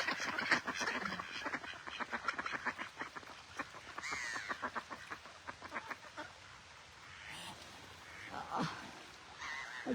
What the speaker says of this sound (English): swans everywhere